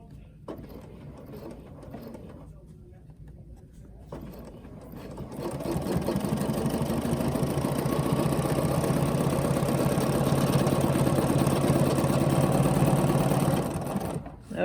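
A quilting sewing machine runs a steady, fast stitching rhythm during ruler work, starting after quiet handling noises and continuing close and loud before stopping abruptly.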